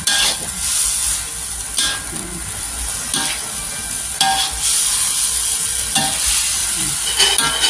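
Water spinach (morning glory) stir-fries hard over high heat in a wok, a loud, continuous sizzle with repeated scraping tosses of the spatula and no voices.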